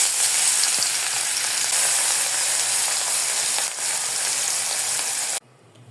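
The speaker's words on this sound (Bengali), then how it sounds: "কড়াইয়ে আমি মাছটা ভেজে নেওয়ার জন্য তেল দিয়ে দিয়েছি" Fish frying in hot oil in a kadai or wok gives a loud, steady, close sizzle that crackles without a break for over five seconds, then cuts off abruptly near the end.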